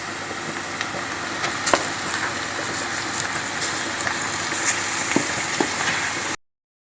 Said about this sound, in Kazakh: Фаршымызды кішкене қуырып аламыз.